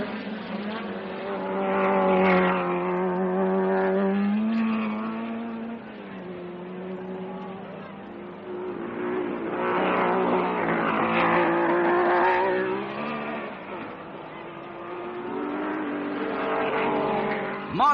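Period racing cars roar around a track, with Stirling Moss leading and Phil Hill's Ferrari close behind: a sustained droning engine note that swells and fades as the cars pass, with no voices.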